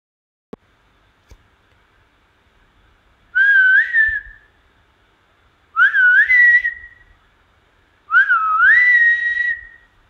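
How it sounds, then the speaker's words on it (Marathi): Malabar whistling thrush gives three clear, rising, melodious whistled phrases a couple of seconds apart, loud and close in quiet forest with faint knocks between calls. "ही कस्तूर पक्षाची शीळ आहे."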